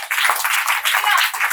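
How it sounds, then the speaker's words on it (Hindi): A church audience claps together in a dense, steady burst of applause, close and loud, with no voices over it. "इसका तो ताली देनी चाहिए"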